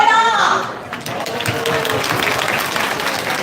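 Audience applause at a Northern California Taiwanese association Lunar New Year gathering: a steady wash of clapping that follows a brief voice at the start and carries on evenly to the end.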